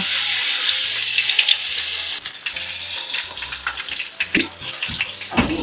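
Bakwan vegetable fritters frying in hot oil, a loud, steady sizzle that drops away partway through, leaving softer crackling and a few sharp clatters close by.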